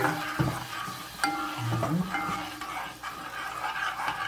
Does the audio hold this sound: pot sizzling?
yes